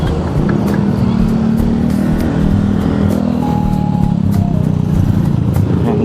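Motorcycle engine droning steadily during a ride to work, a loud continuous hum with wind rush and occasional faint rising tones throughout.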